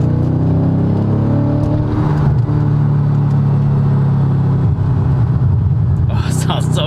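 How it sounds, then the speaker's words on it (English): A European V8 car fitted with an AWE Tuning track edition exhaust rumbles steadily and loudly with a deep, even engine drone throughout, and people talk over the sound. "Car sounds so good right now."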